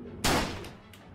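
A single loud gunshot from the video game Lucius, a sharp broadband crack with a short decaying tail and a fainter follow-up thump, no talk over it.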